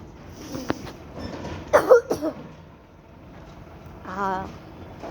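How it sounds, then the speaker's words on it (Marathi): A man coughing outdoors in a village lane near a temple: a cluster of two or three short, harsh bursts up close, followed by a brief voiced sound, over a quiet background. "खोकला लागलाय म्हणून मला खोकला लागलाय"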